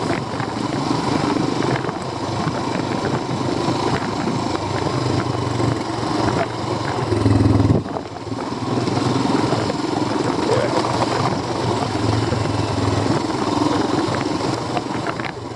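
A Royal Enfield Himalayan motorcycle engine pulls steadily in first gear on a steep moorland track, a continuous loud, rough drone with wind noise and a brief surge in the middle.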